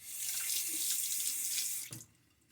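Tap water runs from a faucet while water is added to shaving lather, a steady, fairly quiet hiss for about two seconds before it is shut off and fades out.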